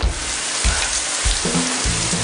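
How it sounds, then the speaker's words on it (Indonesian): Heavy rain pouring down in a loud, dense, steady hiss, with low thumping bursts underneath during a downpour that is causing flooding. "Ya ampun, hujannya gede bener."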